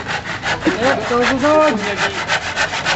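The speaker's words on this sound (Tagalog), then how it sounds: "Ganyan si Michael magdagari" A hand saw cuts through wood in steady back-and-forth strokes, rasping loudly and close up.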